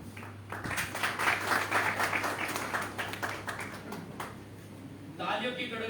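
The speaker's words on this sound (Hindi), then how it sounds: "तालियों की गड़गड़ाहट।" Applause from an audience at a Valmiki Jayanti gathering, a dense, steady patter of many hands clapping for several seconds over a constant low hum, easing off toward the end.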